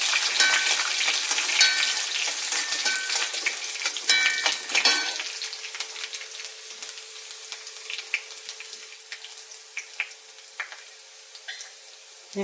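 Sliced shallots and cut red chillies fry in hot oil with a dense, bright sizzle that starts loud and thins into sparse crackles and pops, heard close up with no talking.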